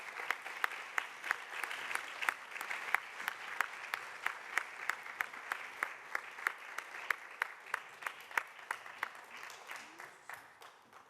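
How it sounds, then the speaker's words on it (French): Sparse applause from a small audience at a laïcité prize ceremony, a few distinct hand claps standing out rhythmically over a soft bed of clapping, fairly quiet and continuous throughout. "on peut encore l'applaudir"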